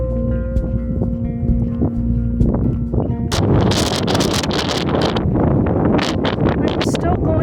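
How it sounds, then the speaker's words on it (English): Strong gusts roar and buffet loudly across the microphone on an Appalachian Trail mountain bald, building from a steadier rush into heavy, turbulent blasts, with footsteps and rustling beneath. "I'm still going over balds this morning, and it is very windy."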